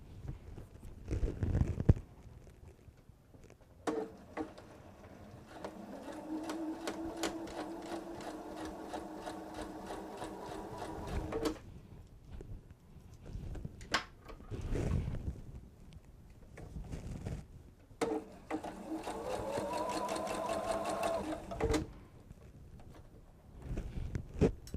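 A sewing machine stitches a quilted travel tote in two long steady runs, a fast even whirring hum that starts and stops cleanly, with quiet pauses between.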